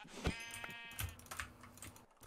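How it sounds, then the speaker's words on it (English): Sheep bleating in the video game Minecraft, a few short wavering bleats rising over clicky keyboard typing and faint background game sounds. "There's another brown sheep over here."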